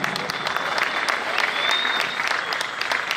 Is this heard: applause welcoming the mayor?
yes